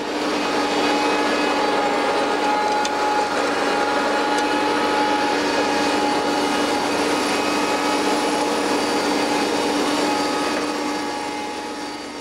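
A Lemken Brillant seed drill works the field in very dusty conditions, a dense, constant mechanical roar and whine running unbroken throughout, loud and close, with no voices.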